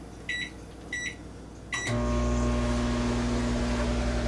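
A microwave oven heating broken-up chocolate melts: three short keypad beeps, then the loud, steady hum of the oven running with a low mechanical drone.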